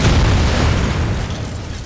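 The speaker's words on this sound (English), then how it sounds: "An explosion shakes the room, erupting with a surge of flames." A loud explosion in the game Reverse: 1999 blasts through a garage, a dense roaring rumble that holds steady for nearly two seconds before easing slightly, with no voices.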